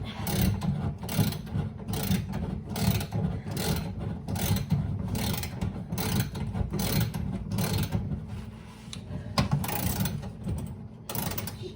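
Wrenches work at stuck fan fasteners on a vintage stainless steel Vent-A-Hood, giving a busy run of rapid ratcheting clicks and metallic scraping in close, repeated bursts over a low mechanical hum.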